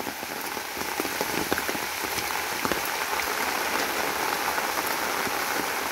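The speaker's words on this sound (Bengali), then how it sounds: "বৃষ্টি হচ্ছে" Steady rain falls on a village path in Niteshwar, Bangladesh, hissing evenly and densely with scattered close drops pattering throughout.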